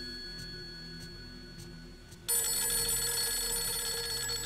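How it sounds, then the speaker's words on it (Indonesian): A telephone rings in the video game Fatal Frame 3, a steady electronic tone that starts abruptly partway through and carries on loudly over a faint hum, with no talking. "Oh, telepon berbunyi."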